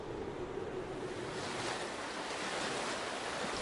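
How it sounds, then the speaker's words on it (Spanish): The Ebro River flows with a steady, even rush of water that stays constant, with faint wind mixed in and no voices. "durante unos días solo se oye el río."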